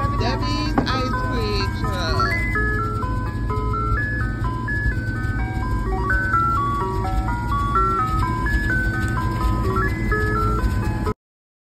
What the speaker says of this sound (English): I'm telling you, a ice cream truck ain't pull up on me in probably 30 years.